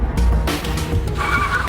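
Car speeding off with tires skidding, a short burst of engine roar and tire noise, loud and close, then a higher squeal toward the end.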